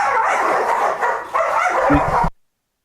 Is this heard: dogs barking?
yes